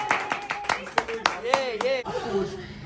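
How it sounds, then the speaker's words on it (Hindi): A small group claps in a sharp, uneven burst of about a dozen close claps, mixed with people talking and chuckling. "तालियां तालियां तालियां तालियां"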